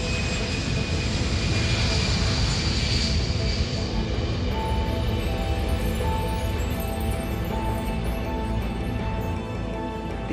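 Boeing 747 jumbo jet taking off with its engines running, a continuous, loud broadband roar and rumble holding steady throughout, with faint whining tones threaded through it and no voices.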